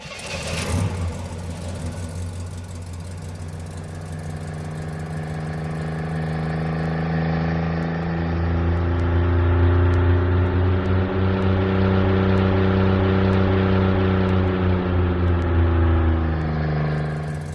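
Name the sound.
synthesized car engine sound made with MetaSound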